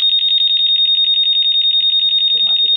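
Aftermarket keyless module alarm on a Honda motorcycle, a loud, shrill electronic buzzer pulsing rapidly and continuously, with faint talking under it toward the end.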